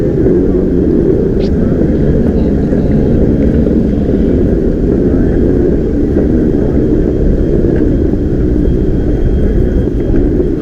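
Airport ambience, a loud, steady low rumble of engines and building noise filling the space with no distinct events, continuous throughout.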